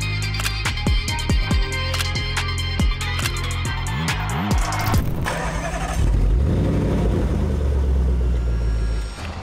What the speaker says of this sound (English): going to race me in the Lambo